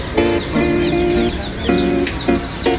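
45-day-old chickens at an animal market in Blumentritt, clucking and crowing loudly and close in repeated bursts over a steady background of flock noise.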